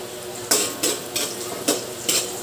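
Onion, garlic and ginger frying in a pan for chicken halang halang, with about five sharp scraping stirs at a steady rhythm over a continuous close sizzle, no voices.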